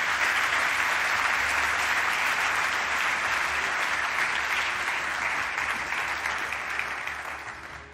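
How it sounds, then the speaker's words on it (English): Sustained applause from an audience at the 2021 FIM MotoGP Awards ceremony, following the Moto2 Rookie of the Year award; dense, steady clapping that fills the room throughout, then begins to taper off near the end. "Big round of applause, please."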